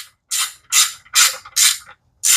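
A hand ratchet bolts a heat exchanger bracket onto a 2003 Cobra with factory hardware, giving five crisp, evenly spaced bursts of ratcheting clicks, close and fairly loud, each separated by short silences.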